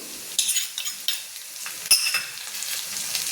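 Peanuts, green chili and garlic hit onions frying in a pan, giving a bright, steady sizzle broken by several sharp bursts and scrapes as the mixture is stirred.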